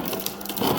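A brief burst of grinding, crunching clatter as crushed ice tumbles out of the door dispenser of a 2017 Maytag 25 cu. ft. French door refrigerator, dense and close.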